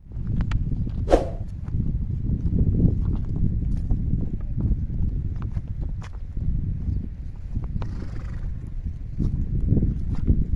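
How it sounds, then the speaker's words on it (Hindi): Several horses walking near a village, hooves clip-clopping steadily and fairly close over a low rumbling outdoor background, with a brief whinny-like call early on. "ये घोड़े देखिए जी, और भी घोड़े मुझे मिल चुके हैं जी।"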